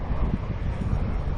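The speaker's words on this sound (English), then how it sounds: "It's nice and breezy out here today." Breezy wind outdoors during a fishing trip, a steady close low rumble of wind buffeting the microphone without pause.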